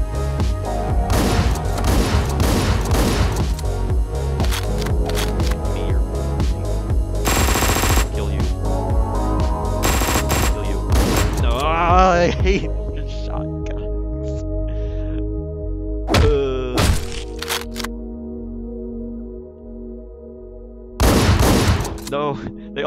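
Rapid bursts of gunfire from the video game Hotline Miami 2 crackle loudly over pulsing synth music, with scattered single shots and booms later amid the game's sound effects.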